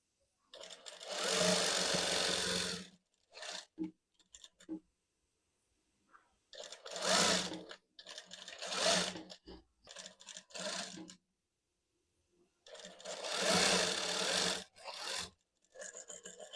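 A sewing machine stitches the shoulder and side seams of a kameez in three long runs, with shorter stop-start bursts between them and quiet pauses. The whirring is close and clear, with no talking.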